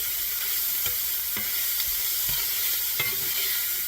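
Cajun sausage browning in a hot pan, with a steady, loud sizzle throughout and occasional stirring scrapes and clicks, no voices.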